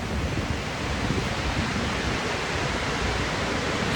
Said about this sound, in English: I don't know if I'll be able to get past this with these waves anyway.